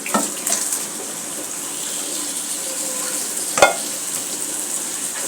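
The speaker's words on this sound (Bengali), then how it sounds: "এখন আমি দিয়ে নেব ডালগুলো ঢেলে দেবো" Lentils (dal) go into a hot pan for bhuna khichuri, raising a continuous hiss and sizzle with a couple of sharp clinks of utensil against the pan.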